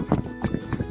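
A hot, spirited Paso gaited horse canters under saddle, its hooves giving three quick muffled beats in under a second, close and fairly soft.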